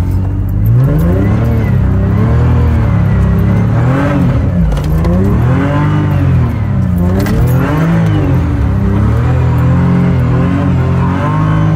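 A BMW E90 being drifted on a low-traction surface, its engine revving hard and continuously, pitch swooping up and down in repeated waves, loud and close throughout with no pause.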